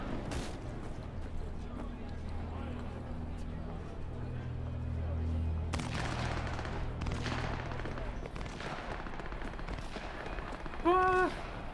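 Gunfire in the video game Cyberpunk 2077, an early sharp shot followed by a dense burst of shots around the middle, over a low droning background, with a brief rising electronic tone near the end.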